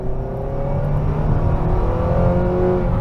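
A 2022 Nissan Sentra Midnight Edition driven hard out of sport mode, its engine droning loudly under heavy acceleration with a steadily rising, CVT-like rev tone heard from inside the car.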